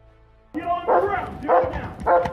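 A police dog barks several times in a row during an arrest captured on an officer's bodycam, loud and close, the barks riding on shouting and people talking nearby.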